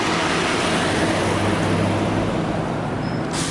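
Broad, continuous roar of workday street traffic outside an old 1903 house, with buses and other vehicles passing and a low engine drone, steady and fairly loud throughout.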